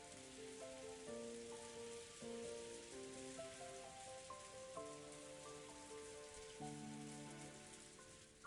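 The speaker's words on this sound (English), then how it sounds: "she was wrapped up in the soft sound of the rain" Soft rain sound effect from the Umineko visual novel game, a steady wash of patter running under layered music tones throughout.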